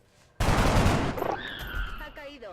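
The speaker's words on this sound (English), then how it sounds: "Let Torres take a shot at him." Gunfire erupts in a video game as a soldier takes a shot, a sudden loud blast with a crackling tail, followed by brief electronic game tones.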